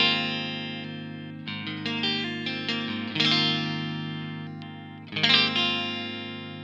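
Fender Custom Shop 1957 Stratocaster HSS electric guitar on its middle pickup, with the lower output of traditional 50s Strat pickups: strummed chords and ringing notes through effects with chorus and slight drive, loud and close, with no voices.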